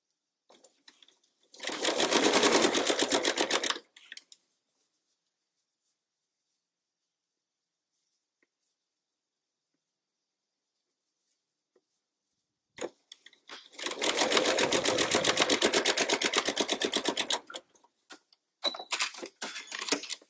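A sewing machine stitches a curved fabric seam in two separate bursts of steady, fast mechanical whirring, each running about two to four seconds. Silence falls between them while the fabric is repositioned, and brief clicks and handling noises follow the second burst.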